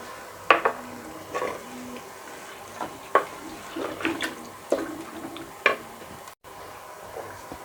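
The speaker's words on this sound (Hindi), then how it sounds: "अब इसमें थोड़ा सा पानी शामिल करेंगे।" Cupfuls of water splash into browned minced meat in a wok, several short pours with scraping and clinks of the cup and pan in between, close and moderately loud.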